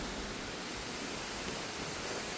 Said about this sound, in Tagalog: Ante, may batis